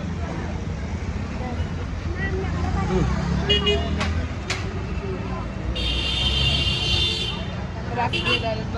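Busy road traffic on a Maharashtra street, with a steady rumble of passing vehicles, a couple of brief horn toots and a longer high horn blare, all under and around speech in the foreground.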